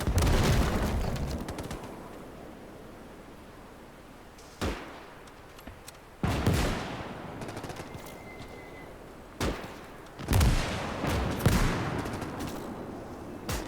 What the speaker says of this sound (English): One of those mega Maxim machine guns.